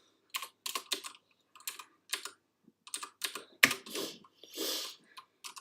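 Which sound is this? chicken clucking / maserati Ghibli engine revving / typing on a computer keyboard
typing on a computer keyboard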